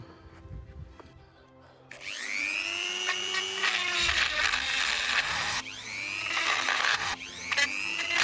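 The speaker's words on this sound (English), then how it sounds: "I think I'm going to have to get a carbide grinding bit in there on the Dremel" A high-pitched Dremel with a carbide bit whines and grinds against a metal bolt on a Porsche engine in close, sustained bursts, its pitch dipping and rising as it bites.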